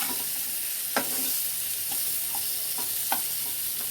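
Potatoes fry in a pan with a steady hiss and sizzle, and a spatula occasionally scrapes and clinks against the pan as they are stirred. No one speaks.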